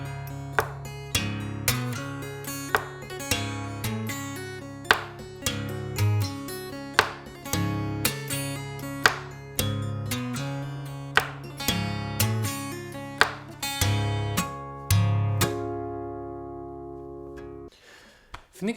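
Two-hand tapping on guitar in the Hijaz scale, from a Syrian song: a slow, steady run of crisp tapped notes over a low repeating bass line, played up close without talk and ending on a brief pause.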